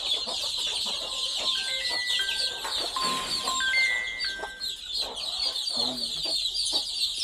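Two-day-old desi chicks peep in a brooder pen with high, steady chirping. Clucking from older free-range hens mixes in, along with scattered short calls.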